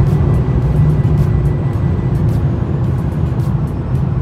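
Mercedes E53 AMG slowing on its own under Distronic Plus adaptive cruise behind a car ahead, heard from inside as a steady low engine and road rumble with a constant hiss, no talking.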